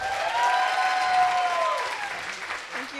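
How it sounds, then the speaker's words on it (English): A meetup audience in Kuala Lumpur claps for a participant, a short burst of applause under a sustained tonal hum that fades toward the end, with a voice faintly audible near the close. "Can we give a round of applause to Elvina?"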